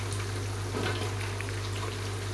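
Onion sautés in a pan while pasta is cooked, a steady soft sizzle and crackle held at an even level throughout, close and without talk.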